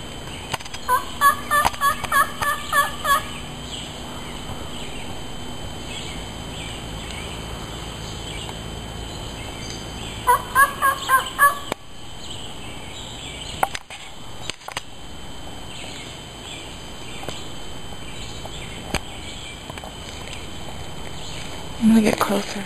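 A grouse calls nearby in the open with two bursts of rapid drumming, pulse-like thumps that speed up, heard under steady wind and handling noise. Faint voices and rustling come between the bursts.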